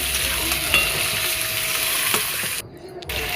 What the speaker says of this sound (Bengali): তো চিকেনগুলো এখন আমি ভালো করে ভেজে নিতে হবে